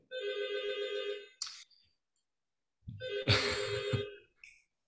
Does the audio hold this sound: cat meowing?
no